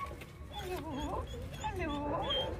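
Puppies whimper and whine nearby with several high, wavering cries over a couple of seconds, against light indoor background noise.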